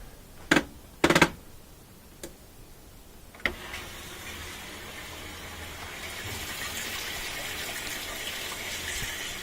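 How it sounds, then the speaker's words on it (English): Warm water gushes into a Kenmore top-loader washing machine tub, a steady rushing fill that follows a few sharp clicks and knocks, continuing evenly and moderately loud with no voices. "That volume of water coming in on warm is really good."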